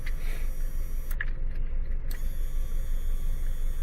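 The sunroof motor of a 2009 Scion tC runs with a steady, fairly loud mechanical whir and a faint creak partway through, no voices.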